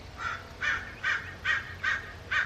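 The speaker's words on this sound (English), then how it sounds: "We've got crows also." A crow caws six times in a steady, evenly spaced series, fairly close and clear over a faint low background hum.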